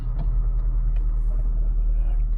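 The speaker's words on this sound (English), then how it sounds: "the exhaust is not obnoxious, but it's really great when you're pushing it hard" A VW Golf 7.5 R fitted with an Akrapovic titanium exhaust rumbles at low speed in a driveway, a deep, steady, close drone with no voices over it.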